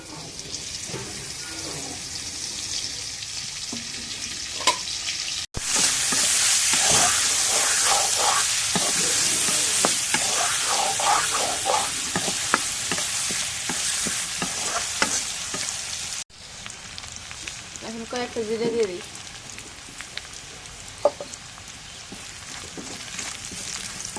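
Crushed garlic and onion sizzle and fry in hot oil as the base for a lentil dal with drumsticks, a loud steady hiss with stirring scrapes, briefly quieter at the start and end.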